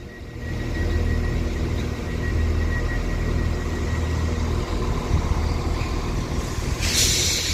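A refurbished class 168 diesel passenger train passes at Leamington Spa, a loud steady rumble with engine drone and wheel noise building and holding, then a brief hiss near the end.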